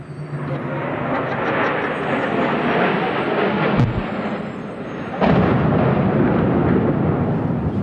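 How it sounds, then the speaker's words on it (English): A loud, sustained roar fills the air, broken by two sudden heavy booms a moment apart, like a distant crash: the September 11 plane crash in New York. "What the hell was that? It sounded like a plane crash."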